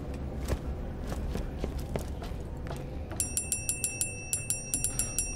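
A bell in the Borderlands video game rings in a quick, evenly spaced run of about a dozen bright chimes, loud and close over steady game background noise, following earlier scattered clicks.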